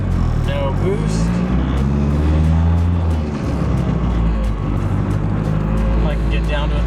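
A car engine pulls in second gear from about 1,000 RPM with no boost, its loud, close drone rising steadily through the rev range before abruptly dropping off midway. A voice comes through briefly at times.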